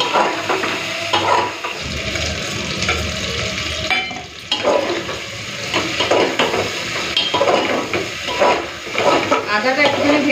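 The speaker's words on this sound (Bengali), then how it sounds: "তো আদা বাটাটা দিয়ে 2 মিনিটের জন্য একটুখানি ভেজে নিলাম।" Chicken pieces frying with ginger paste in a hot pan, a steady sizzle and hiss broken by scraping stirs and clinks of a utensil against the metal, loud and close throughout.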